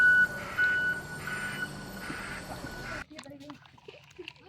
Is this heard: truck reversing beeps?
yes